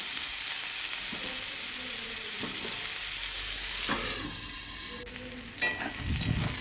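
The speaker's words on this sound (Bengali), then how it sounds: "পাঁচফোড়ন দিয়ে আলুটাকে ভেজে নেব" Potatoes fry in hot oil with panch phoron, a steady sizzle filling the clip with a few scraping stirs and a louder clatter near the end.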